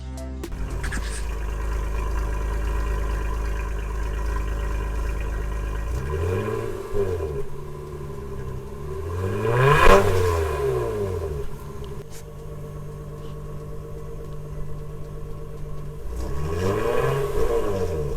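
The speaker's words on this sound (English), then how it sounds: "I put in a little straight pipe where the resonator used to be and started her up to see how different she sounded" Honda Pilot fitted with a straight pipe in place of the resonator, idling with a deep, loud rumble before revving up in several rising and falling bursts, close by with no talk.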